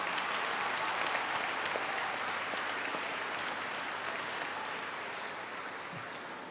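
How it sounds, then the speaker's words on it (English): An audience at a youth leadership assembly on technology and innovation applauds, a steady wash of many hands clapping that holds loud and then slowly fades over several seconds. "Let's give a warm applause and welcome everyone."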